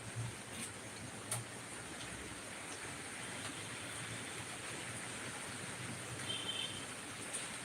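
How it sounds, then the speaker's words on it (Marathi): Heavy rain pouring down outdoors in the evening, a steady dense hiss that holds evenly throughout with no pauses. "पाऊस चालू आहे मस्त जोरदार पाऊस येतोय आपल्या इथं"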